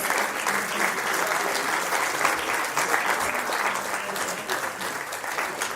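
Sustained audience applause at a teachers' award ceremony, a thick, continuous roar of clapping from a large crowd, with a voice faintly speaking beneath it.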